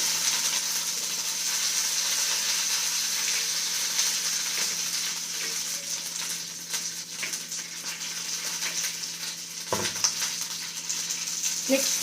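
Curry leaves sizzle in a small amount of hot oil, a steady bright hiss that runs throughout with a few crackling pops near the end, close and fairly loud.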